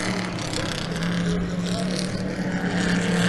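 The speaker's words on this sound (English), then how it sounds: "Oh man, this is just good motor noise." Race car engines, Corvettes among them, roar past a trackside fence at the Mitty 2019 vintage race, a steady loud motor drone with a low hum that swells toward the end, with no clear single pass-by.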